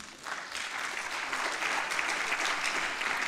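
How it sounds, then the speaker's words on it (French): Applause from the audience at a closing plenary session of a forum, a dense, steady wash of clapping lasting throughout, fairly distant and uniform. "Donc vous avez le droit d'applaudir Sophie Keller, Vincent Perrault et Michel Ar"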